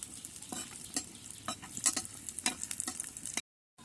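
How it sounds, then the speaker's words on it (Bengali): Cashews, pistachios and raisins frying in ghee: a crackling sizzle with rapid stirring scrapes and ticks, close and fairly quiet, then sudden silence at the end. "প্রথমে আমি কাজু বাদাম, পেস্তা বাদাম, কিশমিশটা ঘিয়ে ভেজে নেব।"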